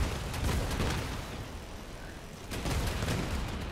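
Sustained gunfire in the vehicle combat game Crossout as a player shoots at a bridge overhead, a dense rattling barrage with booming impacts that runs throughout and swells again toward the end.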